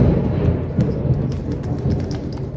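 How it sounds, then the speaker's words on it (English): Thunder rolls through a storm, a loud, continuous low rumble with steady rain falling on a surface and no voices. "Oh, here comes some more thunder."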